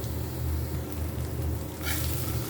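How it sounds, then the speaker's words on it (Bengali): Onions fry in mustard oil in a pan, giving a steady, close sizzle that carries through without interruption and with no voices over it. "সরিষার তেলের সাথে পেঁয়াজের সাথে আমি ভালো করে একটু ভেজে নিব"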